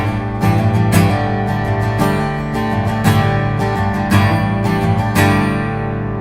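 Guitar chords strummed in a steady rhythm with an unmuted string left ringing, giving a cluttered, messy resonance between loud close strikes, with no voices.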